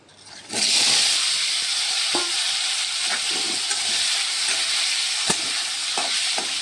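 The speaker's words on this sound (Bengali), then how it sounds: "আলুগুলো এখন আমি প্রথমে ভেজে নেব।" Potatoes fry in hot oil for a fish curry, a loud steady sizzle that starts after a brief quiet moment and holds close and continuous, with a few scattered clinks and taps from stirring.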